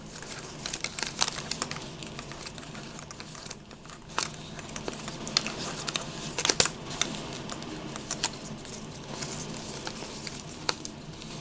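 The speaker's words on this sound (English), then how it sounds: "you'll just tighten that up and roll your film" 120 film and its backing paper being rolled onto a 616 spool by hand, giving a continuous close, quiet crinkle with soft paper rustles and small clicks throughout.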